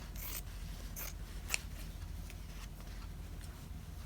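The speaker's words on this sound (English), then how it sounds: "So I'll just go ahead and take my scissors. And I'll cut between these." Scissors snip through scraps of novelty fabric, a few crisp, faint cuts spaced apart over a quiet background, one sharper snip standing out near the middle.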